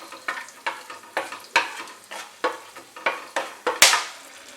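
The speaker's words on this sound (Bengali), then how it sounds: "ফোড়নটাকে একটু ফ্রাই করে নেব।" Whole cinnamon, cracked cardamom, cloves and peppercorns fry in white oil in a pan, a soft sizzle punctuated by a steady run of about a dozen scraping stirs from a spatula, with a sharper hiss near the end.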